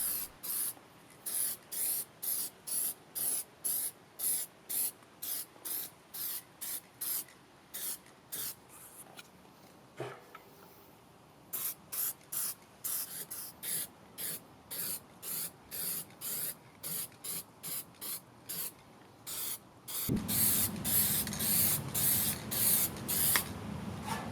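Repeated short bursts of high-temperature paint sprayed from an aerosol can onto a wood stove, a steady rhythm of close hissy puffs, denser and louder toward the end.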